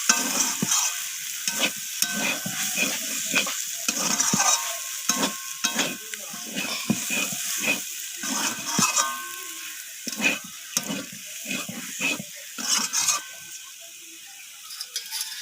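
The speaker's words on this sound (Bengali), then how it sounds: "ধনিয়া পাতাটা দিয়ে আমি আবারও নাড়াচাড়া করে নিচ্ছি" A spoon stirring soybean and cauliflower curry with coriander leaves in a frying pan, rhythmic scraping strokes over a soft sizzle, close and clear with short pauses between movements.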